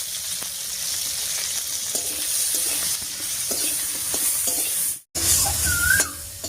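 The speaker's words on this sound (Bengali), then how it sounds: "উচ্ছেটা একটু ভাজা ভাজা হতে থাক" Steady sizzling of bitter gourd frying in a pan with salt and turmeric, with occasional scraping taps of a spatula stirring, loud and close throughout apart from a brief gap.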